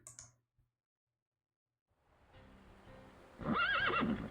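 Horses neigh angrily in the game Reverse: 1999, a loud wavering whinny arriving near the end after faint hoof-like thuds and a quiet stretch, with no talk.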